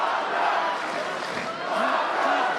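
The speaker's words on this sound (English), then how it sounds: "Crowd getting behind their hero." A boxing crowd at a heavyweight fight between New Zealand and Romania cheers loudly and continuously, a dense roar of many voices with shouts rising and falling, with no pause.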